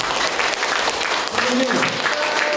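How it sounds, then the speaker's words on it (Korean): Audience at a Korean club meeting giving a round of applause, steady clapping that fills the room, with a voice speaking over part of it. "우리 총재님에게 감사의 박수 크게 한번 드려주세요"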